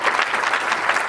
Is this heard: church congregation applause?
yes